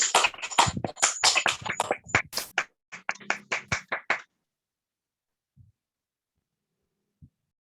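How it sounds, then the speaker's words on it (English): Online meeting participants clap for a new Toastmasters club president through their microphones. The claps are sparse and close-miked with uneven rhythm, then stop abruptly, leaving near silence with a couple of faint thumps. "Help me welcome with a round of applause."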